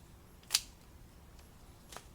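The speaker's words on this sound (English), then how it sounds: "cut all the leaves like that, prune it" Pruning shears cut acanthus leaves: one sharp close snip, then a fainter second snip a moment later, against quiet background.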